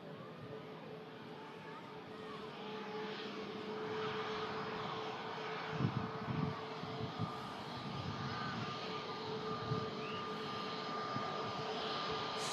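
Airliner wearing Eye of Horus livery taxiing at Manchester, a steady broadband engine rumble with a constant whine, holding fairly level throughout with a few slightly louder surges near the middle, distant rather than close.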